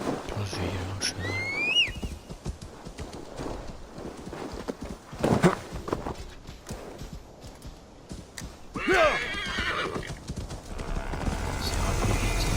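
A horse gallops and whinnies in the video game Assassin's Creed Valhalla: rapid, rhythmic hoofbeats run throughout, with a couple of shrill neighs near the start and midway, while someone talks over it.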